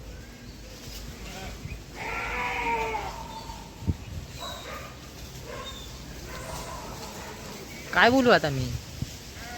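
Goats bleat in a village yard: several wavering cries, a long one early on and a louder burst near the end, while someone talks nearby.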